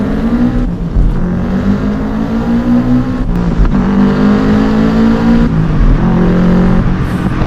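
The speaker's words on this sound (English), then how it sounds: "So one thing with this car is obviously the noise" A Subaru 22B engine roars and revs hard close by, its tone rising and falling through quick gear changes, echoing as if enclosed in a tunnel.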